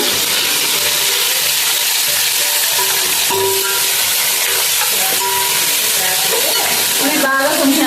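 Cut tomatoes going into a pan of frying onions and chilies, giving a loud continuous sizzle and hiss with occasional stirring scrapes throughout.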